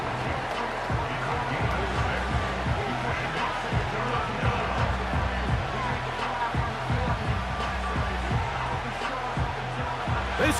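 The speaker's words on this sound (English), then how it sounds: "This crowd into it now as we get to third down." Steady stadium crowd roar from a simulated Madden NFL 25 football game between the Carolina Panthers and Cleveland Browns, a continuous dense wash of cheering that rises slightly, with a commentator speaking over it throughout.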